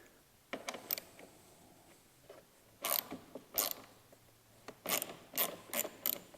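Torx machine screws being loosened from a snowmobile clutch, quiet ratchet clicks in short irregular bursts, close and alone.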